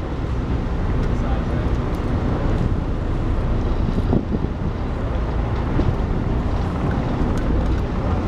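Steady wind roars across open water beside a racing schooner in New York harbor, a dense, continuous rush with a faint low rumble, loud and close throughout.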